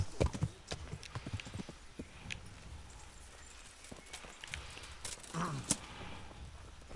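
Horse hooves clip-clop unevenly in Kingdom Come Deliverance as a mount runs through trees and bushes, moderately close with scattered heavier thumps and a brief whinny-like cry near the end.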